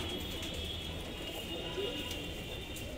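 Punjabi pigeons of a single bloodline coo softly in a loft in Indore, a low murmur faint beneath a steady background hum, with people talking nearby.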